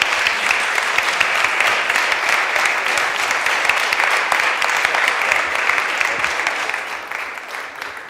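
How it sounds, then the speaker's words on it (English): A conference audience at a healthcare innovation event applauds loudly and steadily, a dense wash of clapping that holds for several seconds before tapering slightly toward the end. "Ladies and gentlemen, an applause to Alar and Andres"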